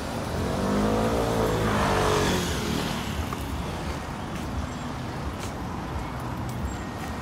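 A vehicle in West Ealing street traffic, taken to be a bus, rumbles in loud and close, its engine peaking and then settling into a steady, heavy drone.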